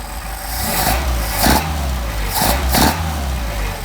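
A Mercedes 190SL engine fitted with Solex 44PHH carburetors runs at a steady, close idle with a low, even drone, broken by a few brief blips of throttle.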